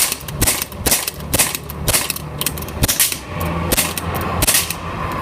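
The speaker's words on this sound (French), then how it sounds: "Donc maintenant, on va tirer en semi-automatique." Airsoft gun fired in semi-automatic mode, a string of about ten sharp, loud single shots spaced irregularly across the span, close to the listener with no talking.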